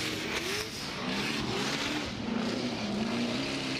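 A loud, continuous Pro 2 race truck engine roar with a rising and falling drone, revving hard nearby under broad outdoor noise at a St. Louis off-road race.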